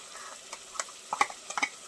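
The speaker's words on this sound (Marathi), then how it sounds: "आणि तो देखील दोन ते तीन मिनटं छान तेल सुटेपर्यंत परतून घेणार आहोत" Ground masala paste frying in oil for a Sunday crab curry, pushed around the pan with a spatula: soft, irregular scrapes and clicks over a faint, steady sizzle, fairly quiet and close, with no voices.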